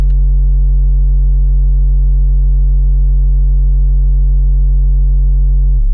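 A steady, buzzy Serum 2 synthesizer chord of layered sine and saw waves, stacked smooth and bright tones, held loud and unchanging for several seconds before shifting at the very end.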